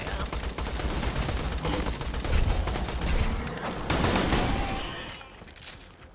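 Rapid automatic gunfire from Borderlands 2 rattles in dense bursts, loud and continuous before tapering off near the end, with a voice briefly heard under the shooting.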